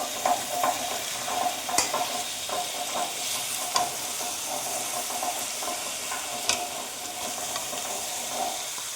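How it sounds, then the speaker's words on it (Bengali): Meat and whole garlic cloves fry in a pan under a continuous hiss, with frequent scraping stirs and occasional sharp clinks of a utensil against the pan, close and fairly steady, without voices. "এখন আমি গোটা রসুনগুলো দিয়ে দেবো এতে। এখন এটা নেড়ে নেব।"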